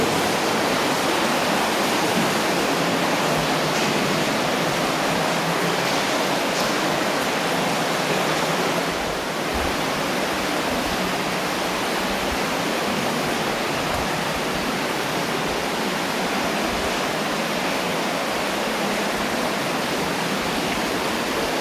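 A dense, steady rush of flowing water fills the space, loud and unbroken, like a strong stream running through Tuckaleechee Caverns in Townsend, Tennessee.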